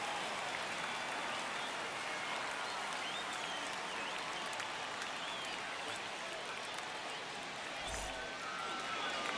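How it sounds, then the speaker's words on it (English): Stadium crowd noise from MLB The Show 25 on Opening Day 2025, a steady broadband roar of cheering and applause that holds loud and even throughout, with no clear talk on top. "The crowd is amped up, ready to get this season underway"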